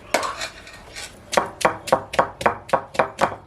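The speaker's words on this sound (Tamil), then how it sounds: "இப்போ சின்ன வெங்காயத்தை வந்து தட்டி எடுத்துக்கலாம்" Small onions are pounded on a stone grinding slab, producing a run of about ten sharp, evenly spaced thuds that speed into a steady rhythm. The strikes are close and loud, with no talking.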